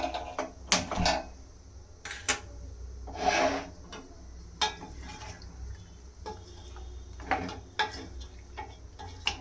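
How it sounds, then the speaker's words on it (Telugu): A gas stove's igniter is switched on while mutton pulao cooks in a pot: a series of close, crisp clicks and ticks in irregular groups over a quiet kitchen background. "స్టవ్ ఆన్ చేసుకోవాలి"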